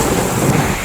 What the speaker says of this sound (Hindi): ये देखो बाहर दिख रहा है बारिश।